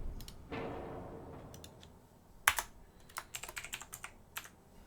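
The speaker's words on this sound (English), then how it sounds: "it's not letting me type the name." Close, sharp keystrokes on a computer keyboard while a name is entered in a naval strategy game, a short burst of uneven typing after a soft scrape, no talking.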